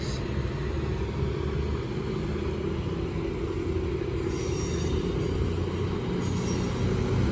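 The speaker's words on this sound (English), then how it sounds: "Behind me, then Voyagers are leaving. The Avanti West Coast Voyagers." Avanti West Coast Voyager diesel trains pulling out of Stafford station make a loud continuous rumbling engine drone with steady rolling noise and faint high squeal, heard from close by the platform.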